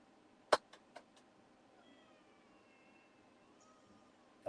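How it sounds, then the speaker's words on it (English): A short, sharp meow from a cat stuck in a sewing room stands out against quiet room tone, followed by a couple of softer cries and a faint high tone in the background. "Can you hear her meowing?"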